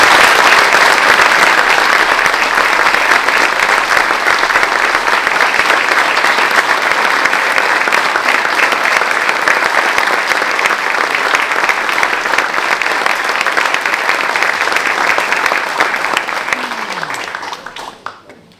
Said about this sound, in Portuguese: Eu peço uma salva de palmas para toda essa gente.